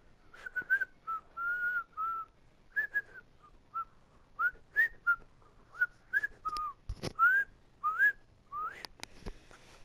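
A person whistles a tune solo, a string of short melodic phrases with brief gaps, bright and close, with a few faint clicks and knocks in the background.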